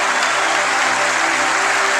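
Dense, steady applause from a church congregation during a Spanish-language Christmas sermon, filling the whole stretch with a loud, continuous wash of clapping and no voices on top.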